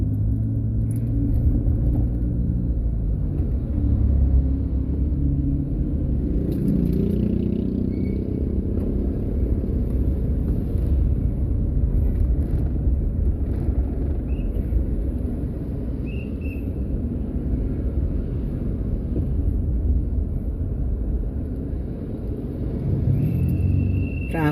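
Heavy city street traffic rolls past near City Hall, a continuous loud rumble of car and motorcycle engines with occasional revving swells and faint talk mixed into the din.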